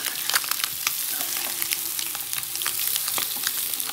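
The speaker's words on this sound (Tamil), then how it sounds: "ஆட் பண்ணி ஒரு நிமிஷத்துக்கு நல்லா மிக்ஸ் பண்ணி விட்டுக்கோங்க." Egg yolk added to an egg pepper masala fries in a pan and is stirred, making a continuous close sizzle with scattered crackles and the scrape of the spoon.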